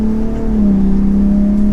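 Ford F-150 Raptor pickup truck from 2021 to 2023 accelerating in normal mode, a steady, loud engine drone with a rising tone heard from inside the cab, with no talking.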